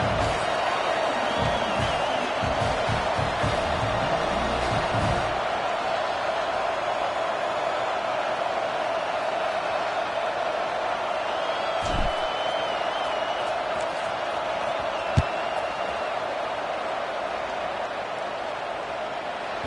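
Steady stadium crowd roar from an American football video game, a constant dense wash of noise around a kickoff, with a few brief thumps and faint whoops rising out of it.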